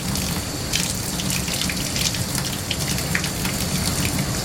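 Water runs steadily from a tap while a paintbrush is rinsed clean of paint and soap, a continuous close splashing hiss that holds at an even level throughout.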